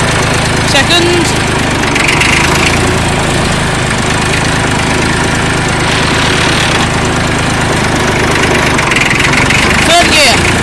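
A Fordson Dexta tractor engine runs in gear, a loud, close, continuous diesel drone with steady mechanical rattle that holds throughout without pause.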